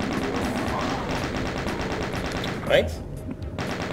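Chain gun in Doom with the Titan mod, firing as a steady rapid stream of shots under someone talking, with a sharper burst near the end before fading.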